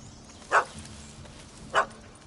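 Two short, separate dog barks from The Witcher 3 game world, each a sharp yelp with a pause of about a second between them, set over a quiet ambient background with no talk.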